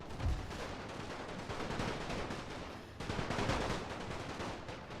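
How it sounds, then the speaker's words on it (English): Continuous infantry musket fire from a line of soldiers in Napoleon Total War, a Great War mod battle, rolls on as a dense unbroken crackle of overlapping shots for the whole span, loud and steady with no speech. "it's this one big long line of continuous fire"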